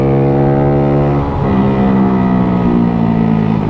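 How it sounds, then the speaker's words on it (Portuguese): A Fortuna motorcycle engine winds down as the throttle is released, a loud close tonal drone that drops in pitch partway through and then holds a steady, slightly lower whine. "Essa zoada de quando você solta o punho"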